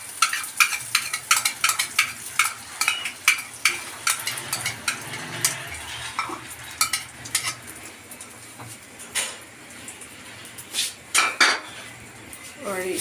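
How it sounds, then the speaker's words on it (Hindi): Beaten egg going into a hot pan for breakfast, heard as a series of sharp metallic clinks and scrapes of utensil against pan over a faint sizzle, close and irregular, with no talk. "अंडा थोड़ा सा फेंटा गया है और अब इसमें डालते हैं अंडा।"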